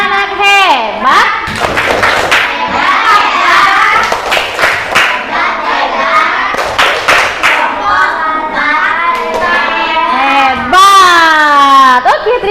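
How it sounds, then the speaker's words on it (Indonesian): A group of Indonesian schoolchildren chanting in unison with rhythmic clapping, loud and close, voices rising in pitch toward the end. "kita kasih tepuk anak hebat sekali lagi"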